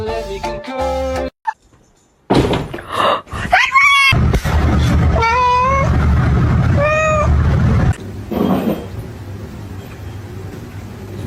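A cat meows repeatedly, loud and close: several drawn-out, rising and falling cries with short breaks between them and some scuffling noise around them.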